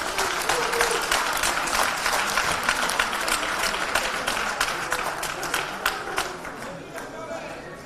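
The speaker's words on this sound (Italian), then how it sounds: "ancora un altro applauso che parte dalla tribuna" Applause rises from the stands at an Avellino football team's first training session, a steady crowd of clapping hands that stays fairly even and gradually thins toward the end.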